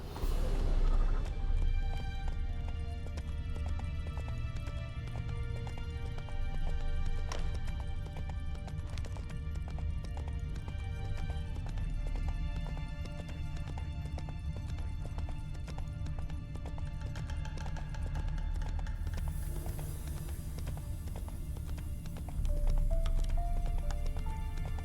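A horse gallops in The Witcher 3: Wild Hunt, with continuous rhythmic hoofbeats under a loud, steady game music score and occasional snorts, running for the whole stretch without any break.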